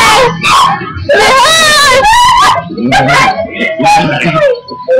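Dog with puppies, close by, giving yips, whimpers and short high cries in bursts while a person talks excitedly over them.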